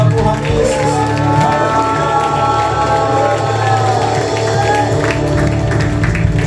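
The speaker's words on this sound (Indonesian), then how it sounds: "Mari beri sorak-sorai buat Tuhan Yesus" Church congregation at a Sunday worship service cheering and applauding together, a dense, steady roar of clapping, whoops and shouts sustained throughout over sustained musical tones.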